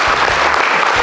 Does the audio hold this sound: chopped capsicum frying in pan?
no